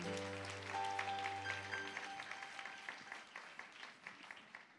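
A church congregation applauds to acclaim the Lord, a dense, sustained wash of clapping that starts loud over a fading held musical chord and gradually thins out.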